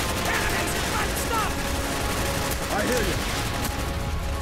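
Bursts of AK-47 gunfire in Call of Duty: Black Ops crackle loud and close, with quick repeated shots over a busy battle din.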